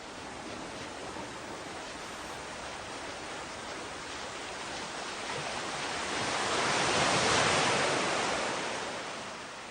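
Sea waves wash in a continuous, loud roar of surf that swells to a peak partway through and then eases back, with no voices.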